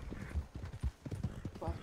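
Hooves of a ridden horse in the video game GTA 5 clip-clop in a quick, even rhythm, up close and fairly loud, with someone talking over them.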